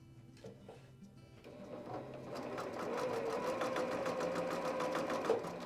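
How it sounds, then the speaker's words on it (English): A sewing machine stitches a quarter-inch seam on a coin quilt. After a brief start it settles into a steady, close, rapid needle hum that runs to the end with no talking. "What we're gonna do is just sew a 1/4-inch seam."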